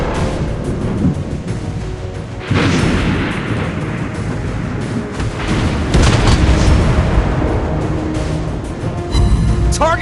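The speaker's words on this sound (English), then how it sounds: "Destroyed an enemy ship." Continuous heavy naval gunfire and explosions boom from the USS Indianapolis in World of Warships Blitz, a dense, loud roar of repeated blasts and rumbling impacts.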